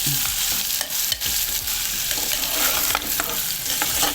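Onions sautéing in hot oil for a Chettinad-style kurma side dish, a steady dense sizzle with scraping stirs of a spoon throughout, close and continuous with no talk.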